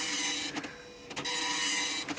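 A Citizen GSX-140 dot matrix printer prints with a loud, buzzing, high-pitched rasp, broken by brief pauses as the head reverses, repeating across short passes.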